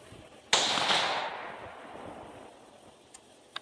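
One rifle shot fired at a target through a CVLife Eagle Blaze 5-25x56 scope: a single sharp, loud crack with a long fading echo, followed by a couple of faint small clicks.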